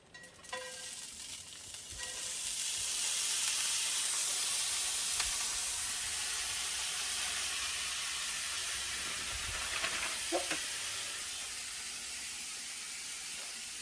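Cauliflower rice frying in a pan gives off a loud, steady sizzle and hiss, broken by a few scraping stirs near the start and again toward the end, with no voices over it.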